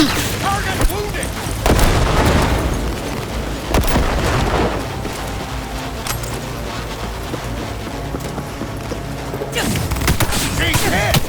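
Sustained gunfire and blasts from a firefight in Cyberpunk 2077, dense and loud with heavier bursts near the start and end, while voices shout over the shooting.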